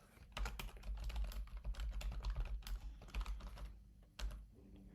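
Steady typing on a computer keyboard as an alert name is entered, a continuous run of close, quick keystrokes with a brief pause near the end, no voices.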